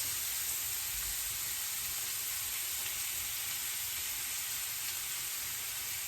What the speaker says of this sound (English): in the other pan, again, it should be really hot. It should sizzle as soon as it hits.